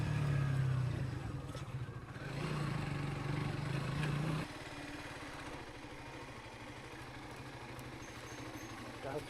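A motorbike runs along a road toward a boat ghat at Ratargul Swamp Forest near Sylhet, its engine droning steadily and fairly close, dropping to a lower, throbbing idle-like rumble partway through, with speech heard over it.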